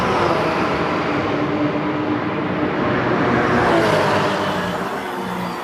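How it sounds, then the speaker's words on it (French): Lamborghini Super Trofeo and Porsche race cars on the Paul Ricard circuit produce a steady, loud engine roar throughout, with broadband racing noise and no voices. "En tête, la Lamborghini Super Trofeo de Stéphane Guérin tient bon face aux Porsche qui sont à ses trousses"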